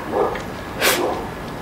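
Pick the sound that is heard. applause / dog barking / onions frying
dog barking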